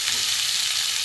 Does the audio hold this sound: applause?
no